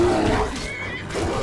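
Horse whinnying and a roaring animal clash in Skyrim as a horse fights a bear, with a high neigh near the start and growling undertones filling the rest of the brief, loud struggle.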